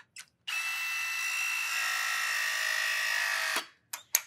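A Viega press tool clamps down on a pipe fitting near the bottom, a steady high motor whine lasting about three seconds after a brief click, then ending with a couple of short bursts as the jaws release.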